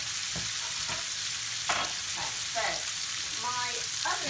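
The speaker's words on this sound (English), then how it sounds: "As you can see, that's now really sizzling nicely." Food sizzling steadily in a frying pan while preparing coq au vin, a constant close hiss with occasional stirring clicks and scrapes, no talking.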